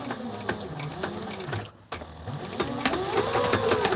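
A Sailrite sewing machine hums and thumps through a flight suit in a steady run, cuts out briefly, then resumes backstitching with a slightly louder, rhythmic chug.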